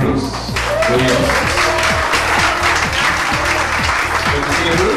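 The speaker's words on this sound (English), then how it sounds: "Round of applause for none other than Mr. Bruce Williams." A room full of people breaks into loud, dense applause for a guest on a Cebu lifestyle show, continuous clapping that swells quickly and holds steady, with voices and a music bed running underneath.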